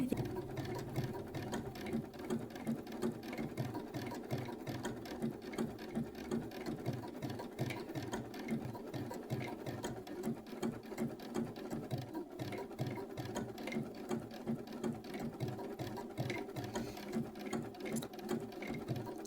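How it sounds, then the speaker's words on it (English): Sewing machine stitching a T-shirt design onto the back of a flannel shirt, running steadily with a fast, even rhythmic chatter of needle strokes throughout, close and alone with no talk. "I am going to go ahead and make my stitches just a little bit farther apart and a little bit wider"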